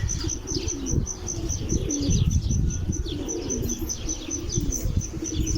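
Pigeons cooing and chirping close by with bursts of flapping wings as they take flight, a busy flock sound that goes on throughout.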